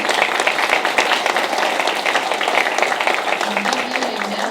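Steady applause from a crowd at a board meeting, dense clapping that holds throughout without a break.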